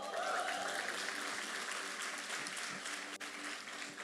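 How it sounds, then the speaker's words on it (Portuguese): A church congregation claps together during an evening service, a continuous wash of applause heard at a distance with a low hum underneath and a brief dip near the end. "Alguém dá um aplauso para Jesus aí"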